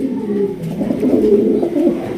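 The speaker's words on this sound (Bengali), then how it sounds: "দর্শক এখানে রয়েছে আরো এক জোড়া আপনার শৌখিন কবুতর দেখতে পাচ্ছেন" Fancy pigeons coo close by in a low, rolling, continuous murmur, with no voices over it.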